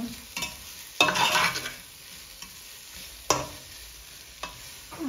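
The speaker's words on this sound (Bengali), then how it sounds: "পেঁয়াজটা বালা করে ভাজা হয়ে গেলে আমি চাউলটা দিলাম" Rice goes into a pot of fried onions and cumin for Sylheti yakhni pulao. Sharp bursts of sizzling and scraping stir strokes come at irregular intervals over a faint background hiss, close by.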